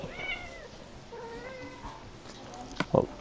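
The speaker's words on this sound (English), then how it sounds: "He's just kind of sitting there purring and he's meowing." A pet cat gives a few soft, drawn-out meows close by, quiet and intermittent, followed by a brief sharper noise near the end.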